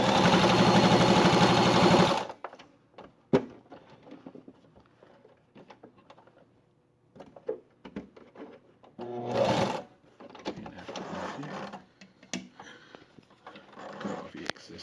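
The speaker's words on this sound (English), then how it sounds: "Quick little straight stitch on it." A sewing machine runs a quick straight stitch on a homemade fabric face mask: one loud close burst at the start, then quieter handling noises, clicks and a couple of short runs.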